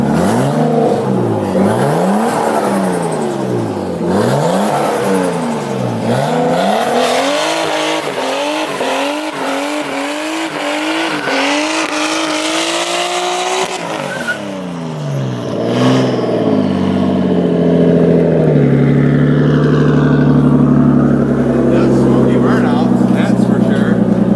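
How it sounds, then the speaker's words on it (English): Nissan C33 Laurel fitted with a 240SX angle kit doing a burnout, engine revving hard in repeated rising sweeps with tire squeal, loud and close, then settling to a rough idle; people talk and shout over it. "But we're gonna do a burnout."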